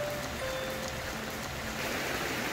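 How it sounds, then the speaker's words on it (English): River crossed on a hiking route, a continuous broadband rush of flowing water, steady and fairly close, with no voices. "as we cross over this river"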